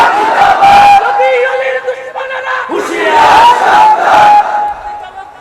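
A large crowd roars and shouts loudly in unison in response to a takbir call, with several surging bursts of massed voices close and dominant throughout.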